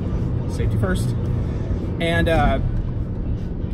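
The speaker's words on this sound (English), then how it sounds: "My car, the Mini Cooper, is notorious for being a fairly windy, noisy car." Inside a moving Mini Cooper, a low, steady rumble of wind and road noise runs beneath a close voice speaking briefly, with faint radio in the background.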